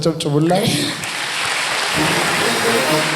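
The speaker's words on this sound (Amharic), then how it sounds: "አጨብጭቡላት" An audience at a church service claps steadily for a woman, sustained applause that swells after a short spoken lead-in and carries on to the end.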